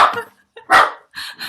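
A dog barks at the door indoors: a burst of loud, close barks followed by shorter yips and a faint whimper, heard alone without talking.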